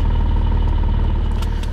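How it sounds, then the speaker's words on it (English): Porsche 718 Spyder with a 4-liter engine idling just after start-up, a loud, close, steady exhaust drone with a low, even throb throughout. "And it fires up really nicely. The exhaust note in the 4-liter is fantastic."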